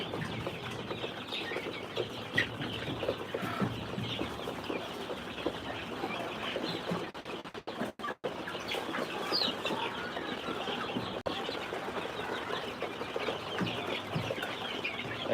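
Chickens clucking in a poultry-trading setting, a steady wash of overlapping clucks and calls from a flock that fills the whole stretch at moderate level, with no one speaking.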